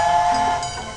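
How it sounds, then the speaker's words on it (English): A train whistle from a children's transportation-sounds lesson: one sustained, steady whistle tone that is fairly loud and close and then fades slightly, with no talking. "A train goes choo, choo, choo."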